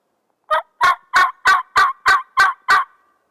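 Wild eastern turkey gobbling on Cape Cod, eight loud, close, evenly spaced gobble bursts in quick succession against silence.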